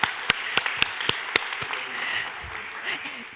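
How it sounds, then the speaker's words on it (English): Scattered claps ring out at first, a few sharp separate hand claps that thin into a low murmur and room noise at a health-tech conference in Limassol, with a voice faintly present. "Big applause, please."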